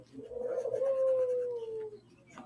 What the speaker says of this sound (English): If you hear the birds, just ignore them.